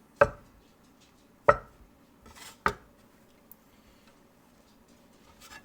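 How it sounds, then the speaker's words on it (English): Three sharp knife taps cut potato gnocchi dough into quarters on a floured board, close and clear against a quiet background. "And we're going to quarter this."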